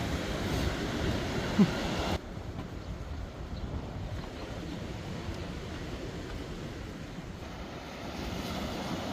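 Steady roaring surf of ocean waves breaking on a pebble beach by a breakwater washes continuously, a broad rushing noise with slow swells in loudness.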